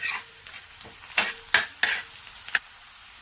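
Onion frying in an iron pan on a wood-fired stove with salt added: a soft steady sizzle broken by a handful of sharp scraping stir strokes, close and fairly quiet, with no talking.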